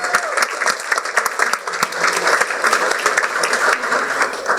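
Audience applause at a student school board meeting held at Roseville High School, a dense, steady clapping from a room of people that stays loud throughout.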